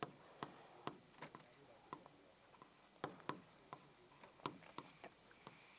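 Marker or chalk scratching across a board in a classroom lecture, many sharp brief strokes in quick irregular bursts, close and fairly clear, with no speech over it.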